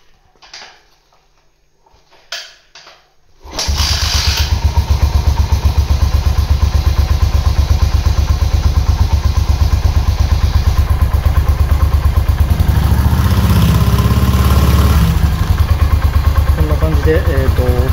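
A Yamaha SR400 motorcycle engine starts after some faint clicks and settles into a loud, steady single-cylinder idle, its revs rising and falling toward the end, heard up close.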